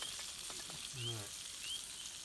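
Food sizzles steadily in a frying pan over a campfire outdoors, a broad hiss running throughout with a brief low clatter near the middle and faint bird chirps in the background.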